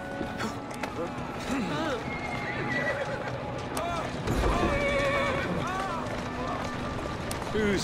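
A horse whinnies repeatedly in Assassin's Creed Syndicate, a Victorian London street game setting, with hooves clopping over a dense bustle of crowd and voices, steady and fairly loud throughout.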